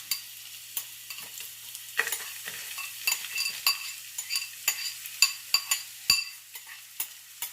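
Garlic and onion fry steadily in a pan, a continuous close sizzle broken by sharp clicks and scrapes of stirring throughout.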